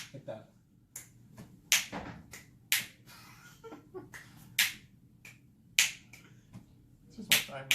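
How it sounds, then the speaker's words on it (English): A person snaps their fingers loudly, sharp isolated cracks repeating roughly every second with a few closer together, up close in a quiet room with faint background hum. "Just snap loud, like that."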